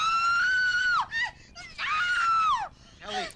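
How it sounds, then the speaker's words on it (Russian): A woman screams from a nightmare in long, loud, wavering cries, two sustained screams falling off at the end, then a shorter strained wail. "Я услышал твой крик от самой кухни."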